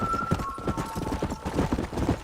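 Rhythmic hoofbeats clop quickly as a horse gallops in Red Dead Redemption, steady and close, with a faint tonal hum in the background.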